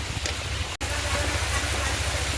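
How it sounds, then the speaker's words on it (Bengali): Heavy rain falls in a continuous broad hiss with a low rumble beneath, briefly cut by a momentary drop-out, no talk over it. "ফের আবার বৃষ্টি হচ্ছে, প্রচন্ড পরিমাণে বৃষ্টি হচ্ছে এখন।"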